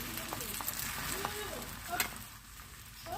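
Beaten egg sizzles and crackles in a hot pan for an egg roll, a soft steady frying hiss with a few light clicks from a utensil, fairly quiet.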